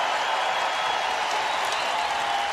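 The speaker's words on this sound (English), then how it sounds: "Home crowd starting to get into it here at the Devaney Sports Center" Home crowd at a women's volleyball match between Missouri and Nebraska at the Devaney Sports Center, a steady wash of cheering and applause filling the arena, loud and continuous with no single voice standing out.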